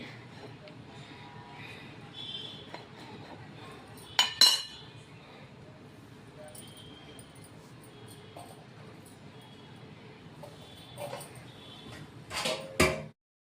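Faint clinks and taps of a steel lid pressing puri dough in a home kitchen, a couple of sharper knocks standing out over low background noise while someone speaks.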